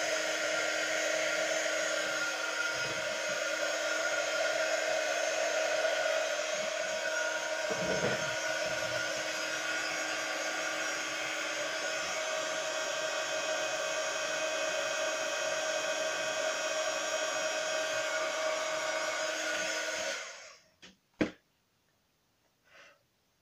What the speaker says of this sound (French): pistolet à chaleur.